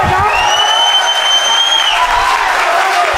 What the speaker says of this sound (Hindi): जोरदार तालियां एक बार बजाओ